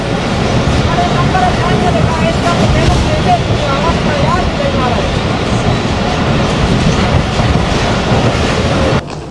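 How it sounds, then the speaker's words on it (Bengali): Loud, close rumble and rattle of the Tezgam passenger train running on the line toward Multan, a dense, continuous roar with clattering wheels that cuts off at the very end. "এই যে আমার পাশেই আমাদের সেই তেজগাম ট্রেন"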